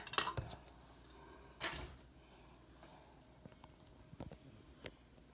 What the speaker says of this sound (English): Okay, and I just stir this up